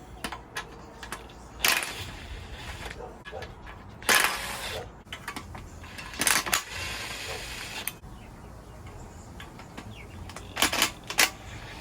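Nuts and bolts being removed by hand from the engine of a 1992 Honda Civic during a timing belt and oil pump job, with several short metallic clinks and rattles spaced apart over a quiet background.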